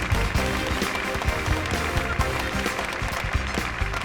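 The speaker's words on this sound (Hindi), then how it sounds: "जोरदार तालियां।" Audience applause at a staged event promoting a video game: dense, steady clapping that holds at an even, fairly loud level for about four seconds without a break.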